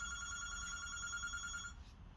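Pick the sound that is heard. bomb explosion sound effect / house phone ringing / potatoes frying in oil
house phone ringing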